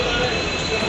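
The Guwahati–Dekargaon Express sits at the platform, its wheels giving a loud, continuous metallic squeal over rumbling rail noise for a brief moment.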